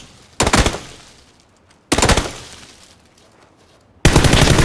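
Three loud, close bursts of assault rifle fire in a squads battle-royale video game match, each a sharp crack fading into a short decay, separated by roughly a second and a half of quiet.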